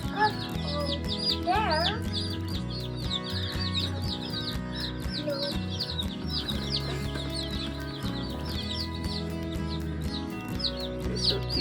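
Young Cornish cross meat chicks, still yellow, keep up a steady chorus of high peeping chirps with soft clucks close by, over a low hum, while people talk quietly at times.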